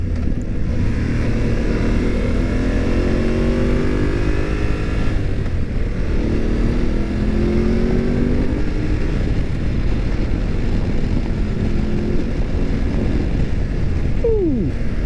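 A 2019 BMW F850GS motorcycle rides on a highway. Its steady engine drone rises and shifts in pitch under loud, constant wind buffeting across the microphone.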